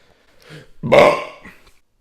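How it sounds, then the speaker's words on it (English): One loud, close belch comes after a sip of Bubblr sparkling drink, rising quickly, holding for about half a second and then fading, with a faint throat sound before it. "My first Bubblr big boy belching sip."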